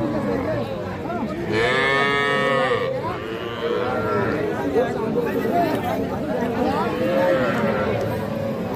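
Cattle and young bull calves low and moo repeatedly at a busy livestock market, the calls loud and close over steady crowd chatter and bargaining voices.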